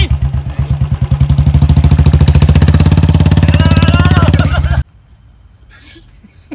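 A Royal Enfield Bullet motorcycle idles close and loud with a steady, even single-cylinder thump, while a voice speaks over it. The engine cuts off abruptly near the end, leaving near silence.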